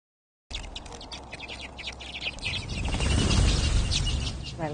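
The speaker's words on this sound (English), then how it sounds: "There's a magpie flying over." Wild birds call during a Christmas bird count, with repeated chirps and tweets near and far over a rising background rush, and no voices.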